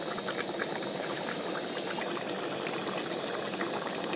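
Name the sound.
fish curry broth boiling in the pot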